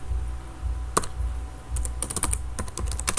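Keys tapped on a computer keyboard while entering a spreadsheet title, with a single sharp click near the start and then a quicker run of clacks toward the end, close and clear over a low room hum.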